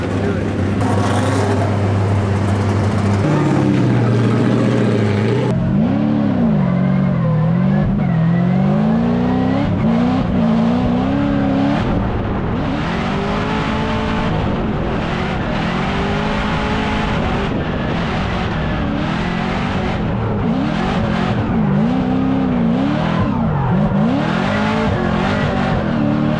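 A Formula Drift race car idles and revs loudly during practice, its engine note rising and falling repeatedly close by, with a person talking over it at times.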